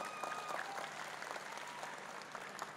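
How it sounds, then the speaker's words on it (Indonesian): Sustained applause from an audience at a religious gathering, a dense even patter of many hands at low volume with no break, heard from some distance. "Tepuk tangan buat semuanya."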